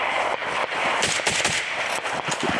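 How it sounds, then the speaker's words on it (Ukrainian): Rapid automatic gunfire pours into a trench on a front-line firing position, a dense, loud run of bursts and cracks continuing without pause. "Стріляємо в окоп, а не поверх окопа"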